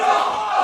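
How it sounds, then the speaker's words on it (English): Wrestling crowd at a Creation Pro Wrestling show chanting in unison, a loud, dense wall of voices that holds steady for a brief moment with no clear commentary over it. "The crowd chanting off."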